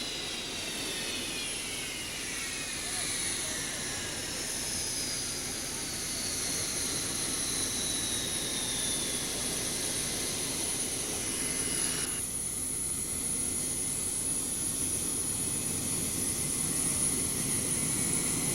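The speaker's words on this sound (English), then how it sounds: "The engines are slowly started again, and the ground crew disperse as, for the first time, the Eagle taxis under its own power." A McDonnell Douglas F-15 Eagle's jet engines whine steadily as it taxis on the ground, a loud continuous roar with a high sustained tone and a gliding pitch that shifts partway through.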